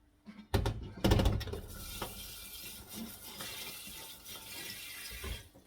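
Water splashes and runs in bursts while a large ceramic jar is scrubbed and rinsed, with louder splashing early on and then softer intermittent trickling and knocks.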